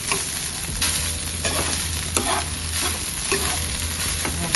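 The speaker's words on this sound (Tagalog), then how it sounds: "Tignan nyo yung pagkakulo niya." Butter chicken sauce bubbles and sizzles in a pan: a steady, close frying hiss with soft popping bursts throughout, no talking.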